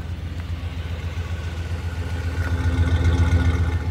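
A 1985 Chevy 2500 four-wheel-drive pickup with a 5.7-liter V8 and dual exhaust idles with a deep, loping burble, rhythmic pulses close up, getting a bit louder toward the end.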